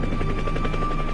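A helicopter in a war setting, targeted by a Stinger missile crew, gives a loud, steady rotor chop and turbine drone that fills the short moment without pause.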